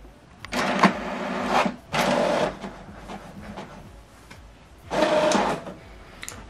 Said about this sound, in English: Document is printing.